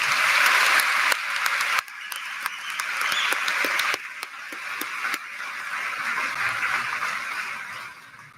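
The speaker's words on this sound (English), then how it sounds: "Let's give them all a big round of applause." An audience at a high school graduation ceremony claps in a dense burst that drops suddenly, resumes, then thins and fades gradually, with a few sharp individual claps standing out near the end.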